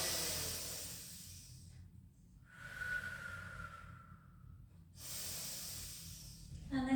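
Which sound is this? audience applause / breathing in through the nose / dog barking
breathing in through the nose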